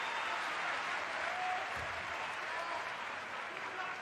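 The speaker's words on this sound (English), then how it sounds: "gets a standing ovation from the home crowd" Home crowd in a basketball arena giving a standing ovation to a player during a Basketball Champions League game between Dinamo Sassari and Enisey Krasnoyarsk, steady loud applause and crowd noise throughout, with a commentator talking over it.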